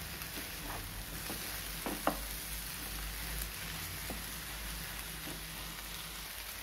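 Grated pumpkin for halwa sizzles steadily in a pan, a continuous close frying hiss with occasional soft stirring taps.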